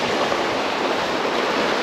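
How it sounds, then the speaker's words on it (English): Ocean waves of about 3 to 4 meters wash steadily around a sailing boat at sea, a continuous broadband rush of water with no speech. "Waves are okay-ish,"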